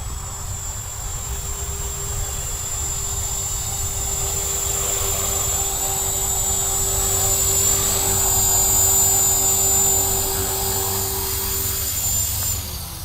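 A cheap T-Rex clone RC helicopter comes in to land, its steady electric motor whine and rotor buzz holding loud and close for about twelve seconds before easing off at the end.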